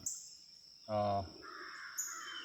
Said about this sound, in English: We got a couple of owls that's been out here with me all morning, and I've been playing back and forth with them